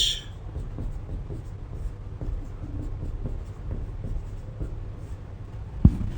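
Chalk or marker writing on a classroom board during a chemistry lesson on atomic structure, a steady run of close scratchy strokes over a low background hum, with no talking.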